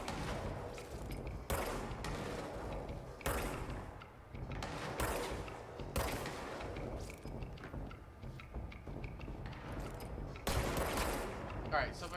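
Gunfire in a PS4 video game, a run of sharp shots and bursts in quick succession at moderate loudness.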